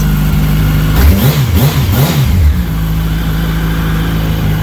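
A 2006 Yamaha YZF R1 Anniversary motorcycle engine idles loudly nearby, then revs up in several quick rising-and-falling blips before settling back to a steady idle.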